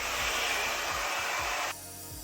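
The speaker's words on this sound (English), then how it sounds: "the recording stopped when I was blow drying my hair" A handheld hair dryer blowing hair in a steady loud whoosh, running continuously close to the mic and then dropping to a lower, quieter setting near the end.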